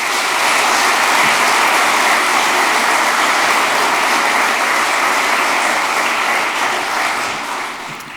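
Sustained applause from a large audience fills a graduation ceremony hall at the Estonian IT College, dense and steady throughout, easing off slightly near the end.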